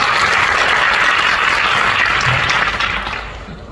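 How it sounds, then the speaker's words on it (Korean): An audience at a panel discussion applauds a university professor coming up to speak, a dense burst of clapping that holds steady then thins out toward the end. "큰 박수 부탁드리겠습니다."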